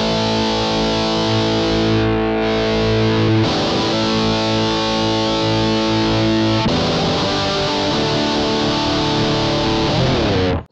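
Electric guitar played through a Joyo distortion pedal for extreme metal tones, giving a dense, saturated wall of sustained distorted chords with a few brief breaks, loud and continuous with no talk.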